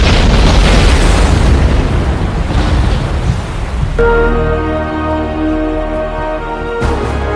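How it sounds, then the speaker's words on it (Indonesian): A huge, roaring explosion blast that rumbles on for several seconds before settling into a lower, ringing tail. "ledakan besar terjadi"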